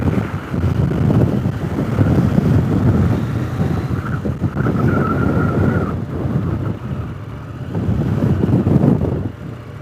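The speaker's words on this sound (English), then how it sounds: "Windy here too." Strong wind buffets loudly and continuously on a motorcycle ride through the Alps, a rough roaring rush with gusts that swell and ease, no voices.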